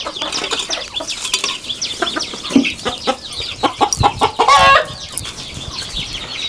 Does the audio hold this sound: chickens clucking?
yes